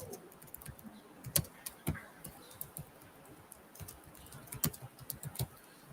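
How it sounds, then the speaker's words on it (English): Computer keyboard typing in quick, uneven bursts of clicking keys while code is entered, close but soft, with no voice over it. "So let me just quickly type that in."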